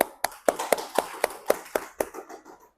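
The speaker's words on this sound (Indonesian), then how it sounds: "Tepuk tangan." A class group in a school lesson claps in unison, about ten sharp, evenly spaced hand claps in a steady rhythm, close and fairly quiet, trailing off at the end.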